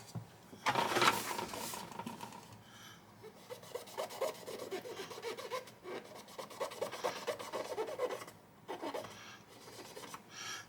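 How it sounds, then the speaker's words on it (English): Cloth wiping and rubbing over a plastic U.S.S. Reliant model kit surface with lacquer thinner, a close, dry scratchy rasp in irregular strokes with brief pauses, no talking. "If you want, you can go over it one more time with the lacquer thinner."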